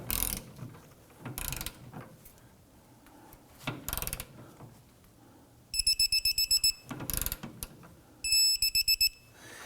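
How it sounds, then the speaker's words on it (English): A ratcheting torque wrench tightens the rear lower forward control arm bolts on a 2008-2011 Ford Focus, with rapid clicking runs in two separate bursts between several sharp metallic clanks in a quiet garage. "Now we're going to go ahead and torque these both down to 85 foot-pounds."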